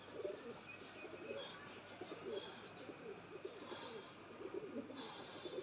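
Soft, low cooing of pigeons repeating in gentle bursts, mixed with faint chirps and light rustling, fairly close and quiet.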